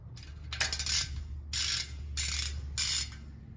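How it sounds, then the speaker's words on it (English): A bicycle wheel's freehub ratchet clicks in rapid bursts as the driver is fitted onto the hub. There are four close buzzing runs of pawl clicks separated by short pauses, with no talking. "And I'm just gonna pick up this wheel, put the driver on."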